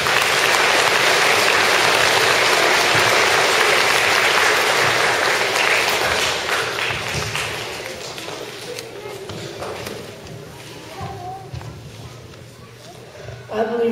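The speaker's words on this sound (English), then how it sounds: "If you plan to think win-win in 2015 too, please clap" Students at a school assembly clap loudly in a dense burst that gradually thins and fades over the following seconds, leaving scattered claps and murmuring.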